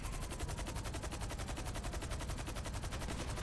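Rapid automatic gunfire in the video game Battlefield, a continuous fast rattling burst of evenly spaced shots that runs unbroken, moderately quiet and with no voices.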